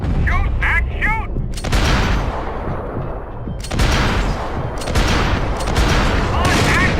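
Dense gunfire from the Max Payne 3 video game: loud, rapid volleys of shots and booming blasts crackle in repeated bursts, with short breaks between them, over a busy combat mix.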